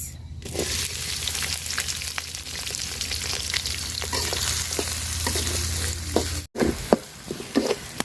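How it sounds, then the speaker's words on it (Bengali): Onions frying in oil with cardamom, cinnamon and bay leaves for a country chicken curry: a dense, loud, continuous sizzle with scattered crackles and stirring scrapes, a brief dropout near the end, then more spattering. "পেঁয়াজটা দেখেন আমি হালকা লাল লাল করে ভাজা নিছি"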